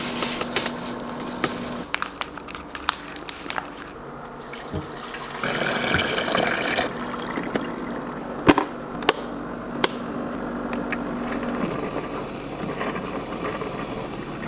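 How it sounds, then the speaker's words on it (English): Hot coffee brewing and pouring into a cup, a close, steady trickle of liquid with gurgles and drips that swells, pauses and resumes, alone with no voices. "Who doesn't like the satisfying sound of coffee brewing, as well as fresh hot coffee pouring into a cup in the morning?"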